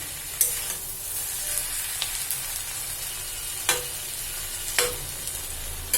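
Vegetable curry cooking in a pan, a continuous close sizzle with a few sharp utensil taps spaced through it, alone with no voices.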